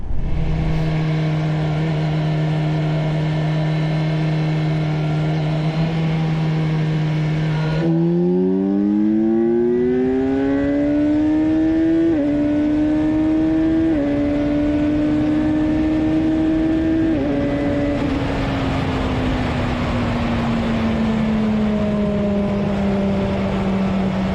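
A Kawasaki Ninja 1100 SX motorcycle accelerating hard from 100 to 200 km/h, the engine's loud, close whine climbing in pitch, then dropping at each of several gear shifts before climbing again.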